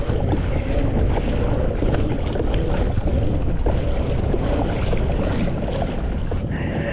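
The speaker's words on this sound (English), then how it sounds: "A lot of wind here." Strong wind gusts steadily across open water around a FeelFree Moken 10 pedal-drive kayak, buffeting the microphone with a constant roar and faint splashing, with no talk heard.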